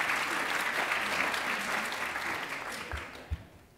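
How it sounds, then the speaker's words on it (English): An audience at a Sydney creative-industry panel event gives a round of applause for the panelists, dense clapping that holds steady then gradually thins and fades out, with a couple of close thumps near the end. "Please give them a round of applause."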